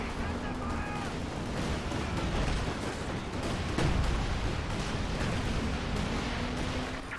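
Artillery and gunfire from Stuka dive bombers rumble through a strategy game battle, a steady wash of distant booms and crackling shots with sharper blasts near the four-second mark, all under continuous background noise.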